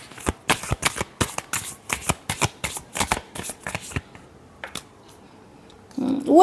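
Tarot cards shuffled by hand in quick, crisp riffling bursts, about a dozen rapid rhythmic flicks, then a short pause with a few soft taps and a brief rustle at the end.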